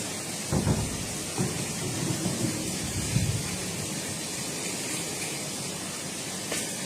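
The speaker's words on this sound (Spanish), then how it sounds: "La tormenta." A thunderstorm with steady heavy rain fills the background, with low rumbles of thunder around the first and third seconds, faint and constant, and no talk.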